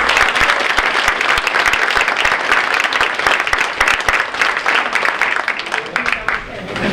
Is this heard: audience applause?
yes